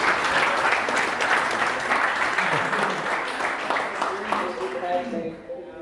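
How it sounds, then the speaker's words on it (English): An audience at a marketing mastermind event in Tenerife applauds warmly, with steady dense clapping that tapers near the end as a voice begins to speak. "Give an applause for Andrea"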